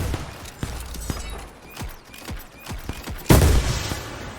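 Rapid bursts of gunfire from the Roblox Iron Man simulator game crackle in an uneven string of sharp shots, ending in a louder, heavier blast near the close.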